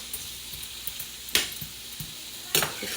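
Pumpkin is stir-fried in a pan, with a soft ongoing sizzle broken by two sharp scraping, tossing bursts of the spatula against the pan.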